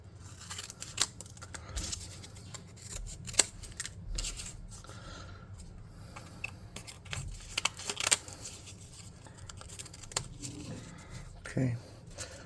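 Scissors snipping through corrugated cardboard for a tabletop model hut, with irregular close crunchy cuts and rustling handling over about twelve seconds and no talk over them.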